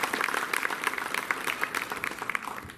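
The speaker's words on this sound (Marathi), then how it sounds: "माननीय महापौर महोदय टाळ्या वाजून यांचं आपण स्वागत केलं पाहिजे" Audience applause at a civic honour ceremony welcoming women sanitation workers and ASHA health workers, a steady crackle of many hands clapping throughout, moderately loud and continuous.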